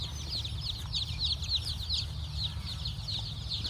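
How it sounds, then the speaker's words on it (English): Pastured laying-hen chicks chirp and peep in rapid, repeated high calls, many birds at once close by, over a steady low rumble. "Time to get these chickens in."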